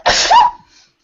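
One loud sneeze up close, a sharp burst of breath that falls off quickly into silence.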